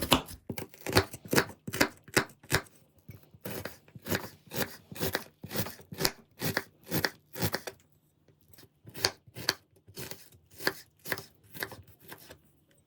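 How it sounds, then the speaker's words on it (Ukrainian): A knife chops an onion into small cubes rapidly against a cutting board in quick, crisp repeated strikes, pausing briefly before another steady run of chopping. "Цибулю нарізаю маленьким кубком."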